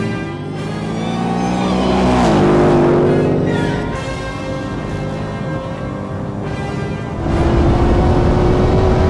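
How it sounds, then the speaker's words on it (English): Dodge Demon and Shelby Super Snake widebody during a drag race, heard as a loud, sustained engine roar from inside the car, rising through gears with pitch sweeps and shifts, then surging again near the end. "This car makes some sounds you don't want it to make."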